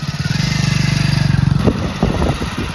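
A motorcycle engine runs with a steady, close, rough pulsing drone for about a second and a half, then breaks into irregular bursts and sputters as it revs.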